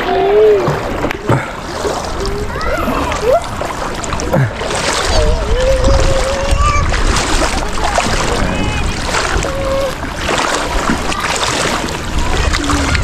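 People bathe in a deep part of a river, their splashes and sloshing water sounding close and continuous while voices shout and chatter around them.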